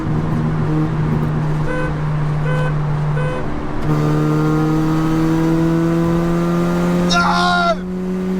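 A 1.6T Skoda pulls hard in third gear on the Autobahn, its engine note rising steadily in pitch as it accelerates, loud and close, with a brief shift-like break and a short horn-like burst near the end.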